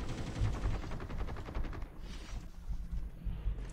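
Gunfire in a Call of Duty Mobile battle royale match, with rapid automatic bursts over a dense, rumbling game soundscape that fades into scattered shots.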